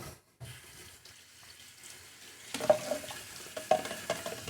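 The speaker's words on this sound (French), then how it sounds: "Il nous faut le verre doseur. Qu'on va rincer." A measuring cup rinsed under a kitchen tap, quiet at first, then running water splashing and clinking close by for the last couple of seconds.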